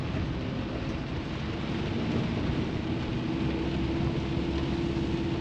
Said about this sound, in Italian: Tanto tonò che piove.